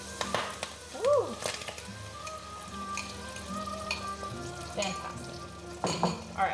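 Eggs and ham fry in a hot pan, a steady soft sizzle running throughout while a utensil stirs and scrapes, with occasional light clinks and brief bits of talk over the cooking.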